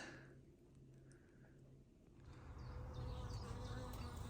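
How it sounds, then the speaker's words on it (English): A wasp or bee buzzes around inside a greenhouse in an English cottage garden, a faint, wavering drone that swells closer toward the end under a quiet background hum. "There is a wasp or a bee or something buzzing around."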